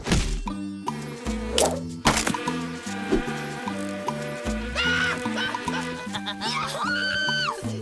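A swarm of flies buzzes around a troll in a cartoon, high whining drones sweeping up and down over a bouncy repeating music track, loud and close throughout.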